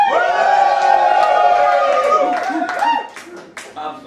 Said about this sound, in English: I want you to whoop, I want you to cheer like a Jerry Springer audience.